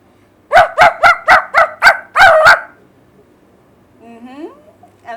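A boy imitates a dog barking, giving seven quick, loud, evenly spaced barks close to the microphone, then a brief quieter whine.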